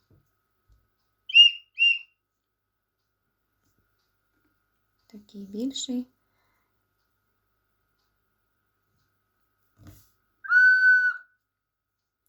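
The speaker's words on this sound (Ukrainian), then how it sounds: "Кожен із них по-різному свище залежить від величини." Short, high whistle notes from small handmade whistles of fired natural clay in different sizes: a quick pair of peeps, a lower breathy toot, then one longer shrill tone, with brief speech between.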